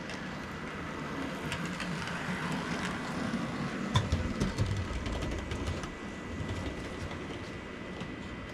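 An HO scale model train runs along its track, producing a low continuous rumble and faint clicking that swells briefly midway, heard up close without talk.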